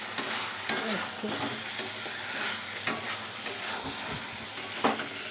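Bitter gourd frying in a pan gives a steady close sizzle and hiss, broken by scrapes and taps of a stirring utensil; a voice says a brief word.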